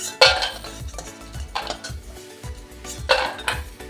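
Fried lentil dumplings lifted out of a pan while making a bottle gourd dish: a series of loud metallic clanks and scrapes of a spatula against the pan, repeated roughly every half second over a faint sizzle, no speech.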